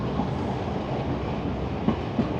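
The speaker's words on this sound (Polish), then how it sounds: "No i co, pociąg zwolnił trochę." Passenger train riding from Kandy to Ella in Sri Lanka, a steady close rumble of wheels and carriage with soft rhythmic clacks over rail joints, continuous throughout with no talking.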